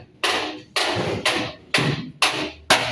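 Sharp, heavy hammer blows strike during refrigerator manufacturing, six evenly spaced metallic impacts about half a second apart, each ringing briefly before the next, close and loud.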